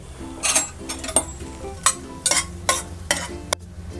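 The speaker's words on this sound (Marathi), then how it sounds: "तेजपत्त्याची पानं आणि वेलची आपली चांगली तडतडली आहे" Two bay leaves and two cardamom pods crackle in hot oil for a Bihari chicken masala, with a series of sharp, close stirring scrapes and sizzling bursts repeating at irregular intervals over a quiet background.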